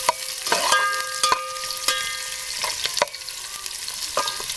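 Chopped large onion frying in hot oil in a pot for curry pakora kadhi, a steady bright sizzle with occasional sharp clicks and scrapes of stirring, close and fairly loud, no voices.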